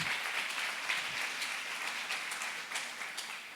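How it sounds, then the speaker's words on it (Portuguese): A church congregation claps together in a steady, moderately quiet wash of applause that lasts the whole moment, heard from a little distance with no clear voices over it. "Aplauda ao Senhor. Aplauda ao Senhor."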